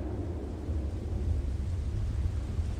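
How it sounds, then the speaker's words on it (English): Deep rumbling roar of a storm, steady and low, like distant thunder mixed with strong wind, with no voices. "all I can hear is the storm"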